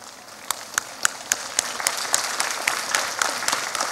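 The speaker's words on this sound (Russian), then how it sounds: "Я рассматриваю эти аплодисменты как поддержку" A crowd at Anapa's city day celebration applauds, with a few distinct sharp claps standing out at first before the clapping thickens into a steady, moderately loud ovation.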